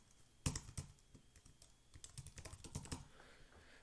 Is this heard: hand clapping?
no